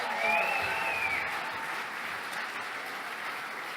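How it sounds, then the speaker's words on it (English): Moderately quiet applause from a dinner audience at the Victorian Pride Awards, steady clapping that fades slightly over a few seconds with no talk. "So if you can give her a big round of applause as well."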